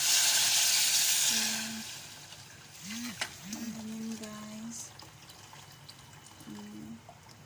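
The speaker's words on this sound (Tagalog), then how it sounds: "Lagyan natin ng tubig. Hot water to guys." Hot water pours loudly into a pan of ragi vegetable soup for about a second and a half, then fades to a quieter simmering hiss while someone talks.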